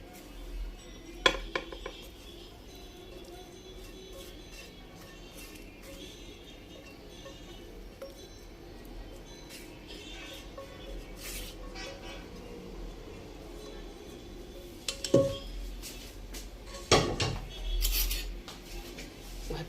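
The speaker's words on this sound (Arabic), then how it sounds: "وهبتدي اقلب الرز بتاعي، اقلبه في الخلطه." A spoon scrapes and clinks against a cooking pot as rice is stirred into a spiced onion mixture, with soft rubbing scrapes throughout and a few sharper metallic knocks near the end, no voices.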